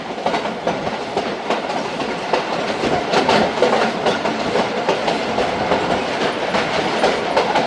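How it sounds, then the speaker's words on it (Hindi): The Thal Express passenger train rolls along unwelded branch line track, loud steady rumble with repeated rhythmic clickety-clack of wheels over rail joints heard from inside. "ब्रांच लाइन का ट्रैक साउंड मेन लाइन से मुख्तलिफ होता है।"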